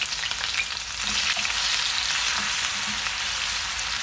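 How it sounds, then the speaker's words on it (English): Onion frying in oil in a cast iron pan, a dense, steady, close sizzle with fine crackle that holds level throughout, no voices. "So I have some oil in my cast iron pan. Now I'm going to be adding the onion"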